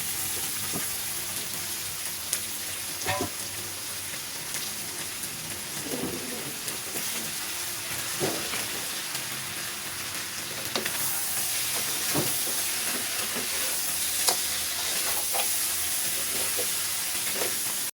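Tenderized, sliced meat hits a hot pan for Batangas-style kaldereta, giving a steady, moderately loud sizzle with occasional clinks and stirring scrapes throughout.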